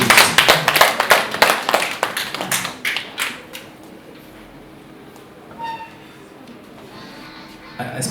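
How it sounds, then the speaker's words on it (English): An audience at a graduation ceremony breaks into loud, dense clapping that lasts about three seconds, then thins out and fades to a quiet hall with scattered faint sounds. "Can we clap thunderously for where we have reached?"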